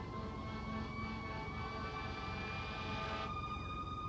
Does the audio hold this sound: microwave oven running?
no